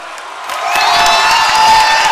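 A crowd at a university basketball final celebrates the winning team, with cheering and whoops swelling quickly into a loud, sustained roar of voices and applause.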